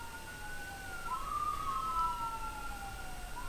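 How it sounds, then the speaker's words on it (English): Two wailing emergency sirens from a passing ambulance rise and fall against each other, moderately loud but somewhat distant, over a steady low rumble of traffic noise with no voices. "Ambulances are loud."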